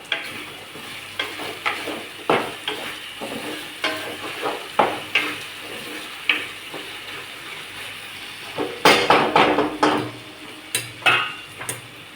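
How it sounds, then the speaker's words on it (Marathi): Potatoes frying in a pan under a steady sizzle, stirred with repeated scraping strokes against the pan that come at a regular pace and bunch together near the end, close and clear. "आपला बटाटा छान परतला चालला आहे"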